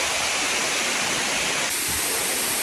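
A waterfall in Bali, heard from right beside or within the falling water, produces a loud, steady, close rushing roar that fills the whole clip without pause.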